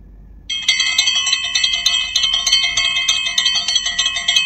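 Rapid, bright ringing bell effect from a video editing app's sound library, a fast repeating metallic trill starting suddenly and continuing steadily, loud and alone.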